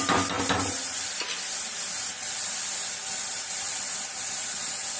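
A loud, hissing sizzle comes from a pan of fish curry masala for Sankara fish curry as it sautés, with a few scraping stirs at the start, then a steady, unbroken fry with no talk.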